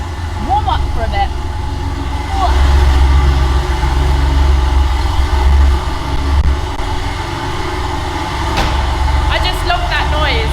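A Porsche 911 930 Turbo sits idling in a garage while it warms up, a steady low rumble that stays loud and close throughout, with a voice speaking briefly over it.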